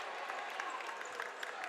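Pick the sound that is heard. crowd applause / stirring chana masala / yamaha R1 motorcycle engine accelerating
crowd applause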